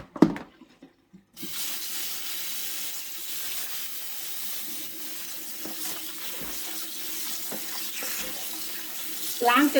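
Garlic mustard leaves being washed under a running kitchen tap, a steady close hiss of flowing water with small splashes, after a few brief knocks at the start.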